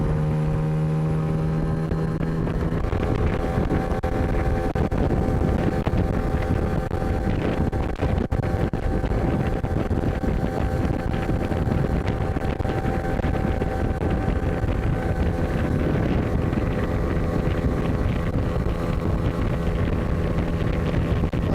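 A Flagman 420 catamaran carrying two people runs under a Tohatsu 9.8 outboard motor, a steady loud engine drone mixed with water rush and wind buffeting the microphone for the whole stretch.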